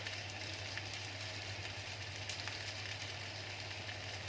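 Small drops of oil sizzling on hot charcoal pieces set under foil, a steady close hiss with faint crackles and a low hum beneath, no voices.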